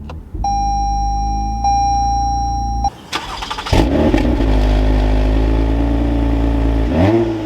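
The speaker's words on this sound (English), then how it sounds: "let's bring this to life and listen to that TRD exhaust" A 2024 Toyota Camry TRD with a TRD exhaust starts up: a steady chime plays with a hum inside the cabin, then the starter catches and the engine fires into a loud, steady idle with a brief blip of revs.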